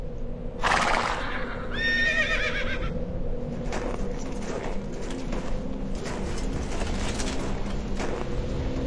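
Horses in a Warcraft fantasy film scene, with loud close neighs and whinnies near the start followed by a bed of hooves clip-clopping and shuffling, plus a few sharper impacts, with no talking.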